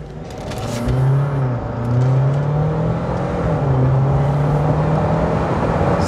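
A Jeep Wrangler 4xe in hybrid mode, petrol engine running from the start, revs up and accelerates steadily from a stop, a loud continuous drone rising in pitch and holding strong for several seconds.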